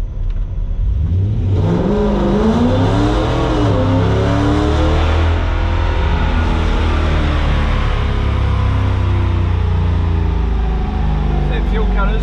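A Toyota 1UZ V8 in a Zephyr, running on a Haltech 2500 Elite ECU, revs up loud and close, its pitch climbing and wavering as it reaches fuel cut, with people talking over the engine.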